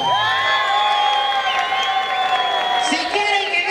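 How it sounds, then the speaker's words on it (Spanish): A live pub show audience in Atlixco cheers and whoops loudly, with sustained shouting voices and scattered clapping in a continuous crowd roar. "¡El aplauso!"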